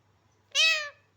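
A talking parrot gives one clear, close meow-like call imitating a cat, a single harmonic cry of about half a second in an otherwise quiet room.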